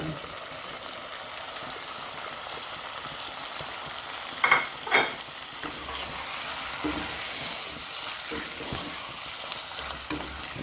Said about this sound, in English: Alright, so we're tossing in our liver.